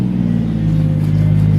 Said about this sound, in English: I'm gonna do some burnouts.